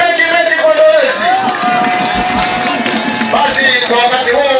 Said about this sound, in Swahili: Makofi mengi kwa Ndolezi.